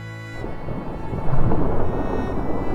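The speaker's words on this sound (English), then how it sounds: "as thunder growled across the hills and the wind howled through the cracks of her stone cottage" Thunder rolling through a stormy night over hills, with rain and wind behind it; a deep, building rumble swells loudly after a brief quiet start and keeps grumbling to the end.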